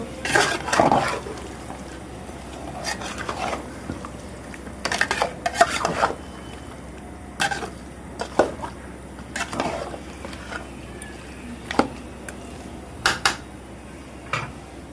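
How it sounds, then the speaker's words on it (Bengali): Chicken and potato curry is stirred in a pot on a stove, giving intermittent scraping clinks and thumps of a utensil against metal in scattered bursts over a quiet background. "আমি এখন চুলায় বসাই দিব, ভালো করে নেড়ে নিব"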